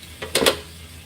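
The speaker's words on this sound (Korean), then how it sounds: "그리고 이 콩은 순식간에 전체적으로 폭발하는 힘이 좋아요" Coffee beans, Kenya AA or PNG Blue Mountain, crack while roasting, giving a few quick sharp pops in a short cluster against a quiet background hum.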